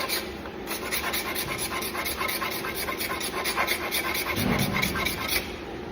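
A steel scraper works over the belly wood of a bow, a close, steady series of rhythmic rasping strokes smoothing out rough spots, with faint background noise underneath.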